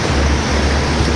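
Floodwater left after heavy rain rushes and churns as a steady, loud, broadband wash with a deep low rumble throughout, no voices heard.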